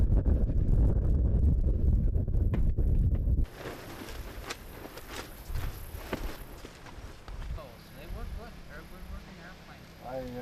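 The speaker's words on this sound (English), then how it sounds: "Yeah, the wind's coming from this direction, from behind the propeller." Wind at an outdoor model airplane fly-in, heavy low rumble buffeting the microphone for the first few seconds, then easing to a lighter steady gust under scattered talk and faint background activity.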